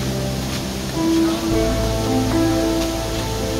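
Namaste Waterfall in Nepal pours in a steady, close broadband rush that fills the whole stretch, with a few faint tonal strands riding over the roar.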